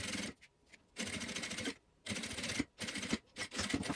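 A sewing machine runs in short, steady bursts, stitching binding onto a zipper for a small cosmetic pouch, with brief pauses between runs.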